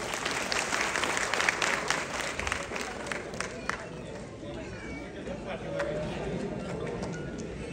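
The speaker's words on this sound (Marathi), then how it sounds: "वरती जोरदार टाळ्या व्हायला पाहिजे" Applause at a birthday celebration, brisk clapping from a gathered group that is loudest at the start and thins out, with chatter and voices mixed in.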